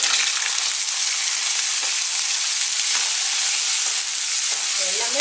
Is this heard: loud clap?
no